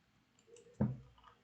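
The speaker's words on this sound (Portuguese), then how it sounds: "e aperto o delete do teclado." A single crisp click from a delete key pressed on a computer keyboard, close and clear against near silence, with a faint softer tap just before.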